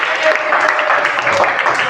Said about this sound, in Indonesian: Ya, bagus, tepuk tangan anak-anak.